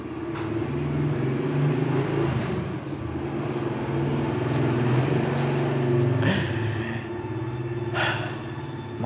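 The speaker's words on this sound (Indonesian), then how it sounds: "Ada suara motor lewat" A motorbike passes outside, its engine rumbling steadily and rising as it draws nearer before fading, heard through an old basic mobile phone recording with no talk.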